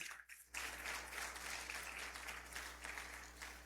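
A church congregation gives a loud, sustained round of applause at a devotional service, dense clapping that swells in after a short quiet start and continues steadily.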